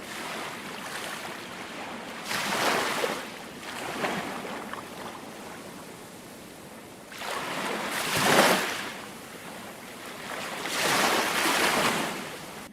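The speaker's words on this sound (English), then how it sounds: "small, calm, gentle ocean waves lap onto sand, secluded tropical beach" Small, calm waves wash onto the sand of a secluded tropical beach in slow, soft surges, about four rising and receding swooshes with a quiet hiss between them.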